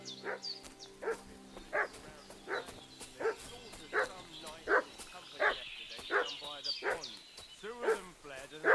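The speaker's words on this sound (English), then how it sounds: "What's that dog making such a fuss about?" A dog barks repeatedly in Kingdom Come: Deliverance 2, a medieval role-playing game, with steady yapping barks roughly every half second, fairly close, over a soft ambient bed.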